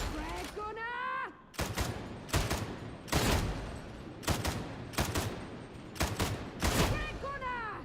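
Headhunter autogun fire in Darktide, a video game, comes in several loud, sharp bursts of rapid shots separated by short pauses, with a brief burst of game voice at the start and end.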